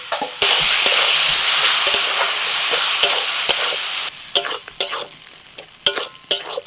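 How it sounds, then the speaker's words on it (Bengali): Chicken filling with a paste of pointed gourd pulp being sautéed and stirred in a pan, a loud continuous sizzle that gives way to scattered scraping and stirring clatters near the end. "পটলের শাঁসের যে পেস্টটা দিয়েছিলাম সেটা দিয়েই কিন্তু এখন কষাতে থাকছি"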